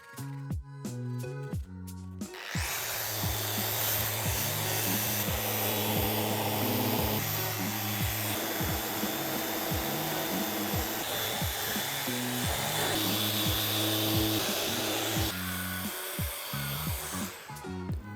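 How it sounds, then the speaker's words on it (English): Continuous power sanding of a wooden dresser with 80 grit paper, a loud steady whine and rasp starting after a short musical intro and running on without a break, with music faintly underneath. "I marked out all of the surfaces with a pencil and then started to sand with 80 grit sanding paper"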